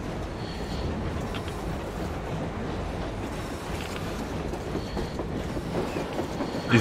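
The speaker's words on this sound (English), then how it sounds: "Is that a train?" A train rolling by in the Metro Exodus video game, a steady rumbling clatter of wheels on rails that holds at an even, fairly close level throughout.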